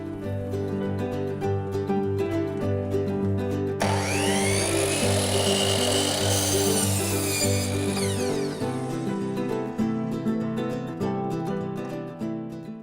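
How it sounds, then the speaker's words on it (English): A power saw whines at high speed and bites into tongue and groove wood for several seconds, its pitch shifting as it cuts, then spins back down. "All right, now we can make our cut."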